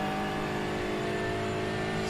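A GT4 race car engine in a sim racing game drones steadily at high revs as it powers down the start-finish straight at Imola, loud and continuous.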